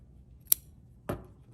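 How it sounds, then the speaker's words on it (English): Scissors trim fabric right beside a zipper, giving two crisp, close snips about half a second apart in a quiet room. "So I'm just going to trim the fabric right before the zipper."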